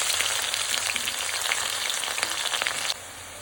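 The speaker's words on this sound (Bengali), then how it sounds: "কুচনো পেঁয়াজ দিয়ে দিচ্ছি" Chopped onions sizzle steadily in hot oil with cardamom, cloves, cinnamon and two bay leaves in a pan for chicken kosha, a close, continuous frying hiss that drops abruptly near the end.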